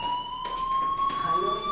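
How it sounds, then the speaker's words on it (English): A fire alarm rings steadily in a video game school scene, a continuous electronic tone with bright harmonics holding unbroken at moderate level throughout. "Hey, do you hear that fire alarm?"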